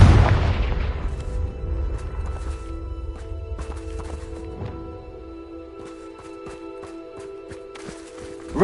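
A Confringo fire spell explosion in the Hogwarts Legacy video game, a loud booming blast at the start that decays into a rumble, followed by scattered lighter thuds and clatter.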